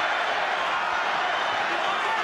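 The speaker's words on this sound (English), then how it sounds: "And listen to the crowd trying to fire him up." Boxing arena crowd at a Floyd Mayweather Jr. vs. Juan Manuel Marquez fight, a steady roar of cheering and chatter filling the hall without letup.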